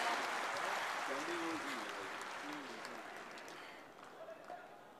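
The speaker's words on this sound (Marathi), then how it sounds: "आपण सगळेजण जोरात टाळ्या वाजवून पुन्हा एकदा त्यांच्या कारकिर्दीसाठी अभिवादन करूया." Audience applause at a live political event in Sindhudurg, broad steady clapping from a large crowd that gradually fades over about five seconds, with a voice faintly over it.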